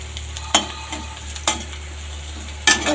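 Onion and green chillies frying in oil with asafoetida and cumin, a low steady sizzle under a constant hum, broken by three sharp stirring scrapes.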